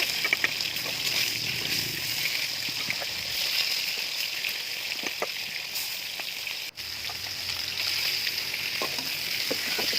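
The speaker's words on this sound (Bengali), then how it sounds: "মাছগুলোকে প্রথমে আমি ভেজে নেব।" Fish frying in a wok set on a stove: a continuous, fairly loud crackling sizzle that holds evenly throughout, with one brief dip partway.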